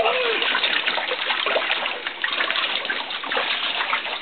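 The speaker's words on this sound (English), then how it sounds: "Are you splashing around?" A small child splashes and sloshes water in a bathtub, producing a steady, close wash of splashing that fills the whole stretch without pause.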